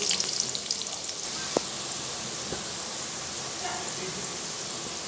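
Sliced onions sizzle steadily in half a cup of hot oil for a balti gosht, a close, even frying hiss with a few faint clinks, under a voice.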